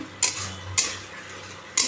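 Fish frying in a pan with mint and coriander leaves, heard as a low steady sizzle broken by three sharp scraping stirs of a utensil against the pan, close and alone with no talk.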